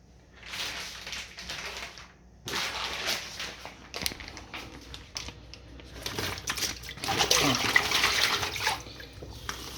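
Cold water being prepared in a kitchen for chilling sous-vide cooked food, with running and splashing water, clattering and rustling handling noises, and bursts that grow louder and denser toward the end.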